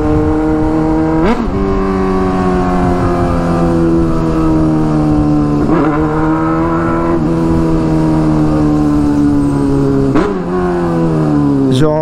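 A Honda Hornet motorcycle with an aftermarket exhaust idles and revs in low gear while maneuvering, its steady engine note rising and dipping in several loud, close throttle blips.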